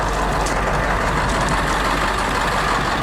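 An International truck engine cranks and runs as a steady, loud, low diesel drone with a broad rumble, heard close up and unchanging over a few seconds with no voices over it.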